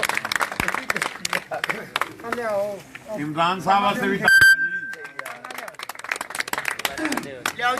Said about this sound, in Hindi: स्पेशल ताली होनी चाहिए